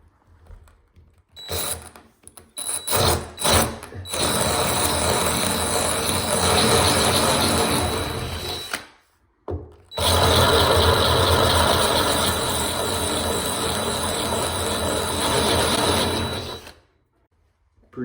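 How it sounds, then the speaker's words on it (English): A power drill with a larger 5/16-inch bit bores into ceramic wall tile, a few short starting bursts followed by two long, loud, grinding runs separated by a brief pause. "So we have our bigger drill bit."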